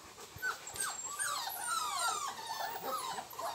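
A Rottweiler puppy whimpers and yelps in a run of high, wavering cries, with a few soft thumps early on, fairly close and with no talking.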